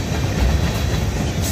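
A freight train rolls steadily past, empty auto rack cars rumbling close and loud, a continuous heavy roar with a faint rhythmic clatter of wheels on rail and no voices.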